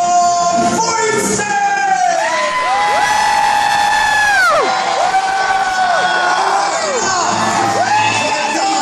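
Large arena audience at a Medieval Times dinner show roaring and cheering continuously, loud and close, with whoops, shouts and sustained high-pitched yells layered throughout.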